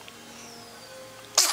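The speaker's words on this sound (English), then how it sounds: "Did you sneeze?" A baby sneezes once, a short sharp burst near the end after a quiet stretch with faint background hum.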